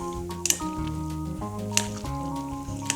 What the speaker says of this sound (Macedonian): Убаво ќе промешам.